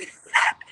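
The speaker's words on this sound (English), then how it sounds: "That's my dog." A single short, sharp dog bark sounds close by, with a faint yip after it, in a quiet room during a talk show.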